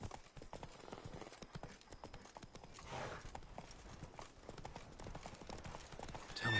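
Roach, a horse in The Witcher 3, trots with quick, rhythmic clip-clop hoofbeats close by, with a brief whinny-like swell midway and faint ambient background.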